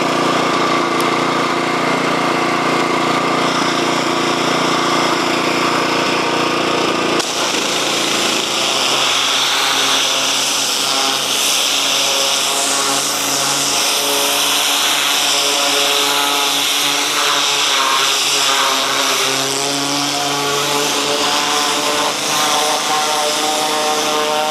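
A commercial hot water gas pressure washer rated 3.5 GPM at 4000 PSI runs continuously with a loud, steady engine drone and burner roar, then shifts to a harsher spraying hiss from the rotating nozzle.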